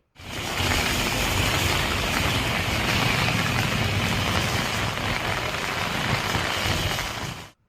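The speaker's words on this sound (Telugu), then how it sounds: "పెద్దాపురం జగ్గంపేట పిఠాపురం ప్రతిపాడు తుని ప్రాంతాల్లోనూ జోరు వర్షం కురిసింది" Heavy downpour during a low-pressure system in East Godavari, steady dense rain hissing loudly and evenly for the whole stretch, with no voices over it.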